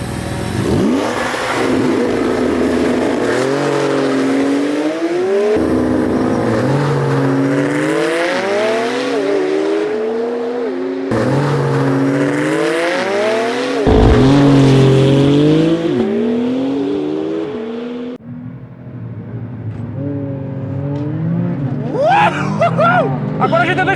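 A Porsche 911 GT2 RS and a McLaren 720S drag race, engines revving hard through repeated upshifts with rising then dropping pitch, loud and close, a brief tire squeal, with voices talking over the roar.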